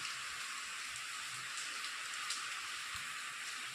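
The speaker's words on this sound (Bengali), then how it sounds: "দেখো অবশেষে বৃষ্টি আসলো" Steady rain hissing down, a dense even patter on surfaces with no voices.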